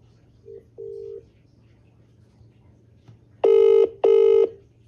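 A WhatsApp call's outgoing ringing tone plays as two long electronic tone pulses close together, preceded by a few softer short beeps over a low steady hum.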